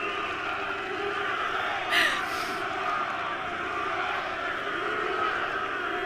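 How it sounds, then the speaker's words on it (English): A golf crowd gathers at the first tee of the 2023 Ryder Cup, a steady, dense murmur of many voices with a brief louder shout partway through. "we're on the first tee here, and the crowd is certainly building"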